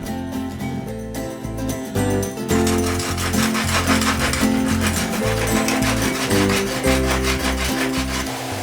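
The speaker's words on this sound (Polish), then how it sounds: "Krawędzie elementu są ostre, tępimy je na osełce." Continuous rough scraping and rubbing of a glass piece's sharp edge against an abrasive whetstone, in quick repeated strokes, loud and close.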